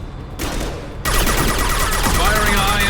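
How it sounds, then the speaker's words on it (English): Dense, loud gunfire in Mass Effect 2 Legendary Edition, a sustained fusillade of shots erupting after a short quieter lead-in and continuing steadily to the end, with game voices mixed in. "Firing a high-impact shot."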